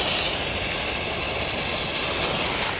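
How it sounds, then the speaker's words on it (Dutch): A crackling fountain firework, a 2020 Aldi one, burns with a steady, loud hissing roar that holds evenly for the whole stretch, with no voices. "Dit is een knetterfontein van dit jaar."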